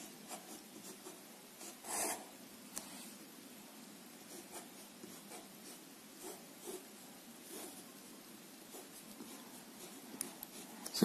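A pen scratches and rubs across paper while an equivalent circuit for an h-parameter two-port network is drawn: steady, quiet scraping strokes with brief louder scribbles, heard close up and with no talk.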